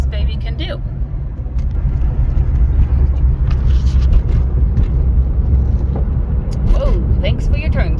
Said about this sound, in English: we're driving through town right now, but we'll get to the highway fairly quickly